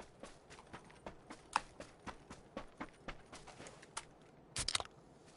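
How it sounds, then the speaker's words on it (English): Footsteps in the PUBG video game patter in a quick, fairly regular series of soft crunchy taps, faint and close, ending in a brief louder cluster of steps. "I heard footsteps to your left,"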